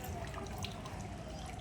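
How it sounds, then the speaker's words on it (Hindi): The swollen Ganga river laps at the bank near Hariharnath, a faint, continuous watery sloshing with soft drips and no talking. "देखिए गंगा जी कैसे हिलकोर मार रहे हैं।"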